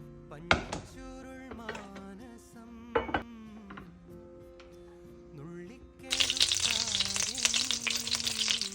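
Dry-frying ingredients in a pan for paneer butter masala: a few sharp clinks of a utensil against the pan early on, then a dense, loud sizzle from about six seconds onward, with steady kitchen hum and no speech.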